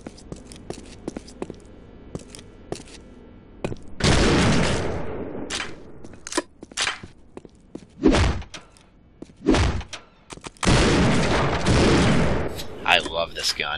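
Gunfire from a revolver and an MP5 in the game Postal 2: several loud, separate blasts and short bursts spread out between quieter game sounds, with someone talking over parts of it.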